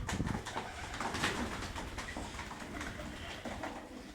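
Bango pigeons cooing inside a coop, soft low coos amid rustling and flapping in a noisy, close indoor space.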